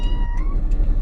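A kitten gives a short, high meow close by, over a steady low rumbling background noise.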